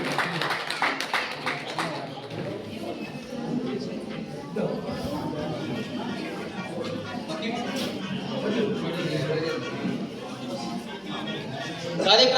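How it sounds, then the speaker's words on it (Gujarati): Scattered clapping amid crowd chatter at an honouring ceremony of the Aradhana savings cooperative society in Vav, uneven and mixed with voices, strongest near the start. "જોરદાર તાળીઓના ગગડાટ સાથે વધાવી દઈએ."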